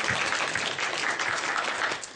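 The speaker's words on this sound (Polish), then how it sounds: "So give yourself a big applause." Sustained applause from an audience at a health talk, dense, even clapping that holds steady throughout with no break, fairly close and filling the whole space.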